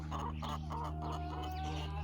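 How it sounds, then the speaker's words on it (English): Chickens cluck softly in short repeated bursts over a steady low hum, with no voices. "So the chicken. They've been laying really well."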